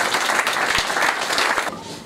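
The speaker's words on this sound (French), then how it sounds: "on peut applaudir Salim Benfonda" Applause from an audience at a coaches' event press conference, a dense patter of clapping over about two seconds that cuts off sharply near the end, with no talk.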